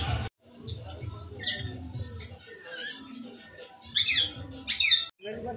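White and yellow parrots in a bird enclosure at a water park give sharp squawks and squeaks in short bursts, the loudest near the end, over soft background voices.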